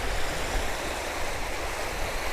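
Gentle sea waves lap at a shoreline, heard as a soft, steady wash of broadband noise at moderate distance with no distinct breaks, alone without talk.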